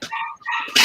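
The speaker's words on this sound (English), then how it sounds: "That's Mo's dog" A dog gives two quick, close yelping barks in under a second, followed by a burst of noise.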